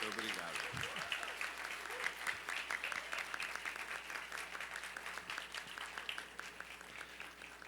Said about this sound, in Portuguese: gostaria de convidar todos os docentes do Unifoa para dar uma salva de palmas ao nosso